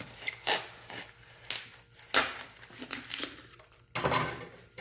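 A blade cuts a hole into the top of a hollow, carvable Dollar Tree foam pumpkin, giving close, crinkly scraping strokes in uneven bursts with brief pauses between them.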